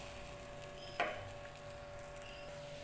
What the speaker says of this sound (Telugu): ఇదిగోండి ఫ్రెండ్స్, దోరగా దోశ కాలుతుంది